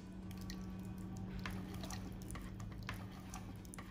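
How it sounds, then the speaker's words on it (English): Marinade drips and splashes softly over raw pork ribs being prepared for Asian-style fall-off-the-bone ribs, a faint, close liquid pouring with small wet patters. "Now we'll pour the marinade all over the ribs."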